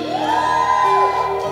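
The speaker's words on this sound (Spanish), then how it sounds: "¿Un grito de júbilo?" Congregation of women at a church service letting out a single loud, rising collective shout of joy, a brief burst of many voices together.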